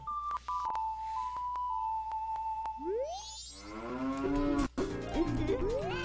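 In the Majora's Mask video game, a sustained musical tone with chime ticks gives way to a long, loud cow moo that sweeps and wavers near the end.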